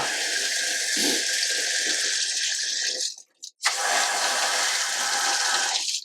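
Water gushes from a travel trailer's bathtub faucet as a steady, loud hiss that cuts off for a brief moment, then resumes just as strongly.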